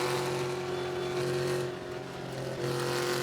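A TA2 race car lapping an oval at World Wide Technology Raceway, its engine droning steadily and close as the driver feathers the throttle, with a brief dip and recovery in pitch midway; no talk.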